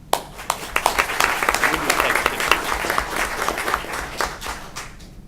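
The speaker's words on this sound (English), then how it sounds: "please give a round of applause for our little ones that we've got here today" City council chamber audience applauding young children being honored, a steady round of clapping from a moderate crowd that rises, holds, and fades out after about five seconds.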